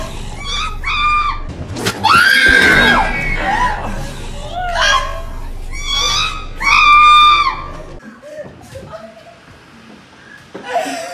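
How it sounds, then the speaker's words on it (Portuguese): Screams from a horror video game ring out in loud bursts, overlapping with players' laughter and chatter, with several harsh high-pitched outbursts across the span. "Alguém grita no meu ouvido."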